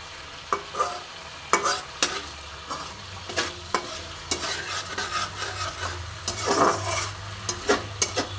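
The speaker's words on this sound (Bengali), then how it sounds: "দেখো আমার মশলা প্রায় কষা হয়েই গেছে।" Masala spices stir-fry in oil in a pan for mung dal, with a continuous sizzle broken by regular sharp scraping and tapping strokes of a spatula against the pan, close and alone.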